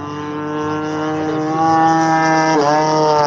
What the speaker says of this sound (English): I'm just putting some stress on the motor.